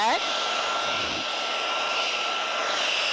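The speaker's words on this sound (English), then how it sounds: "what this blow dryer is doing, it's just basically stretching that curl pattern out" Blow dryer running steadily while drying and stretching out curly hair, a loud continuous whooshing roar held close throughout, with no talk.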